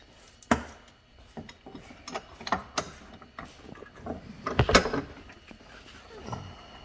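Hardware is tightened during a Tesla Model Y power frunk kit install: close, irregular ratchet clicks and metallic clunks, some sharp, sound in short bursts against a quiet background.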